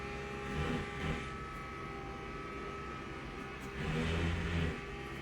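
Porsche race car engine in a racing game at Spa or Fuji, a steady droning roar with harmonic whine that swells twice into louder revving surges, continuous and close, no voices.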